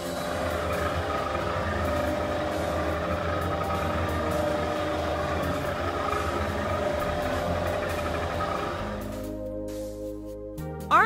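Toy army dinghy's small motor drones steadily and loudly for about nine seconds, a buzzing engine hum that cuts out near the end, leaving a brief quieter tail.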